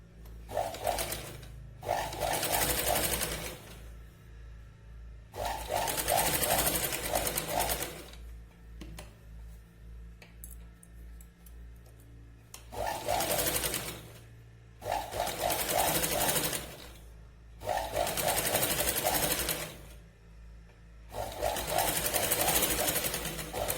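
A sewing machine stitches around a square neckline on a katori blouse in repeated loud, rattling bursts of a few seconds each, with short pauses between runs as the fabric is turned.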